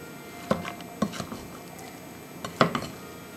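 Rice and beef stuffing for cabbage rolls mixed in a pot with a spoon, giving a few quiet scattered clinks and soft squishy scrapes against a hushed background, no talking.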